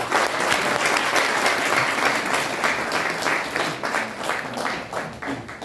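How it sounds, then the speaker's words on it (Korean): A lecture hall audience gives a professor a sustained round of applause, dense, steady clapping from many hands filling the room for several seconds before tapering slightly at the end. "교수님 다시 큰 박수 한번 주십시오."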